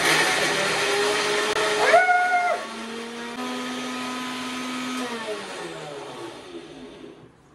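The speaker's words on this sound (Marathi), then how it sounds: "मिक्सर मधनं हे करताय," A kitchen mixer grinder whirs steadily while grinding puran, its motor pitch dropping and shifting partway as the load changes, then running on at a lower hum before cutting out.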